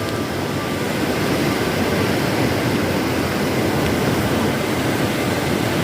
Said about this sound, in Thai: คลื่นแรงมากครับ